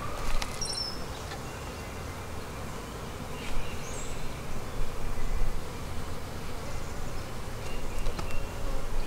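Honey bees buzz around an open hive during an inspection, a constant close hum with individual bees zipping past now and then, swelling louder in places, with no talking.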